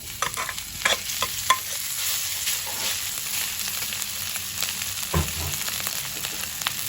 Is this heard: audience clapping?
no